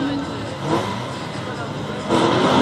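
A race car pulls away at the start of an autocross event, its engine revving loudly in a sustained roar that surges again near the end, with crowd noise and commentary mixed in.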